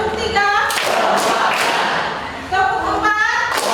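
A classroom of students claps together in counted bursts, sharp unison claps spaced out between a teacher's spoken counts, close and lively in a small room.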